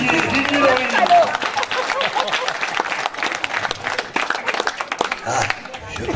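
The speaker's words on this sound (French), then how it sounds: "On applaudit très fort Didier Laurie" An audience at a live comedy show in St Pierre du Chemin breaks into loud, sustained applause, dense clapping with a few voices rising through it before the noise gradually thins.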